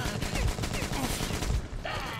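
Machine gun fire in the Metro Exodus video game rattles in dense, rapid bursts, loud and continuous.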